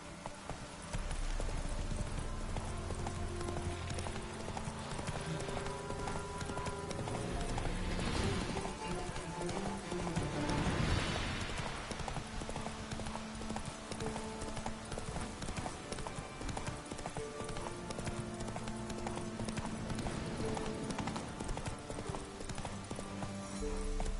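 A horse gallops in The Witcher 3 video game, its hooves drumming steadily and continuously at a brisk pace under a dense wash of game music and ambience, mid-distance and moderately loud.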